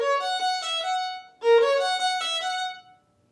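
A violin plays two short runs of notes at one even loudness without dynamic shaping, clear and close, with a brief pause between the phrases.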